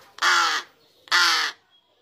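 Two loud, harsh caws from a large-billed crow (gagak besar), a young bird nearly fledged, each call about half a second long and spaced close together, close by against a quiet background.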